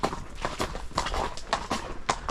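Horse hooves clip-clopping at a slow walking pace, a regular sequence of close, distinct thuds on hard ground.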